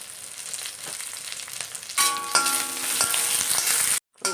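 Green chillies and curry leaves hit hot oil in a frying pan while pork is being cooked. A soft sizzle suddenly surges into loud, crackling frying, then cuts to a brief silence near the end.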